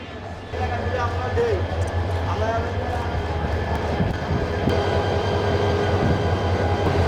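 A train sits and moves at Kamalapur railway station, with a low rumbling drone, occasional metallic squeals and clanks, and the hum of a busy platform, heard close under nearby talk.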